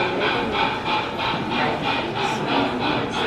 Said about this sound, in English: So, the train has decided to start as we were about to leave.